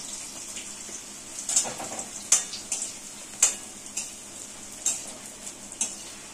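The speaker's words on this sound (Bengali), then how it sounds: "এগুলো ভাজতে বেশি খুব সময় কিন্তু লাগে না।" Bread pieces frying in a pan for a shahi tukda dessert, a soft low sizzle with occasional light crackles and pan clicks, fairly quiet and close.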